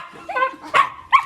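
A dog barks a few times in quick, loud, close bursts, with a short whimpering yip before them, in a quiet room.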